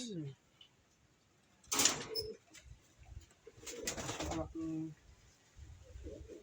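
Pigeons in a fancier's loft after a typhoon give a few soft, throaty coos in short bursts with quiet gaps between, with a faint voice nearby.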